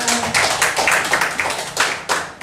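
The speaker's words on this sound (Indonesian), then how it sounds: "Tepuk tangan untuk kita semua." An audience at a vocational school seminar claps together, a close and lively burst of hand claps in loose, uneven rhythm that lasts a couple of seconds.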